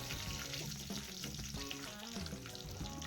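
Dense crackling sizzle of cinnamon bark and whole spices frying in hot oil in a kadai, close and continuous with busy popping bursts throughout.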